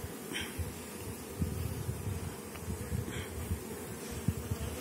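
Carniolan honey bees buzz at an open hive, a steady dense drone of many wings close by with occasional louder bees passing near, no talking heard.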